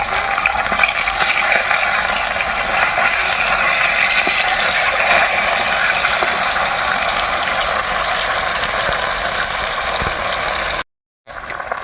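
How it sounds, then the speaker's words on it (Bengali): Rohu fish pieces frying in hot oil, a steady, loud, hissing sizzle that runs unbroken except for one brief cut near the end, with no one speaking. "বন্ধুরা মাছ ভাজা বসিয়ে দিলাম"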